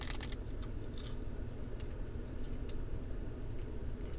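A few crisp crunches of a roasted seaweed snack with sea salt being bitten and chewed, close and brief, over a steady bed of outdoor background noise.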